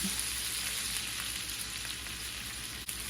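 Beef broth hits hot meatball drippings in a pan, giving a steady, close sizzle and crackle that holds evenly throughout with no talking.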